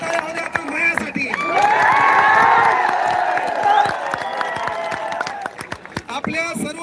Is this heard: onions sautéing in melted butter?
no